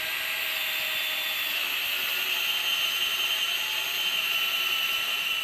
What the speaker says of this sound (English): With this flat drill bit, I'm just going to recess these heads below the surface.